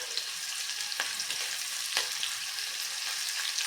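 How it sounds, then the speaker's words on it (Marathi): Curry leaves and green chillies sauté in hot oil in a pan while making panchamrut, a steady close sizzle with a few soft stirring clicks and no voices. "दोन मिनटे कढीपत्ता किंवा कढीलिंब आणि मिरच्या आपण परतून घेऊया"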